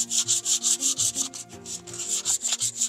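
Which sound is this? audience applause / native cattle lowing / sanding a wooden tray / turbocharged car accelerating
sanding a wooden tray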